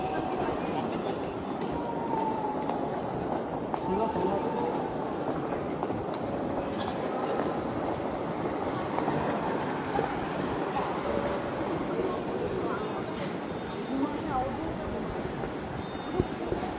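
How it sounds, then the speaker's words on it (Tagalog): An airport transfer train between terminals at Incheon, South Korea, rumbling steadily from inside the car, with dense low-frequency rolling noise, faint squeals and clicks, and people talking quietly beneath it. "sasakay tayo ng tren, bababa tayo dito."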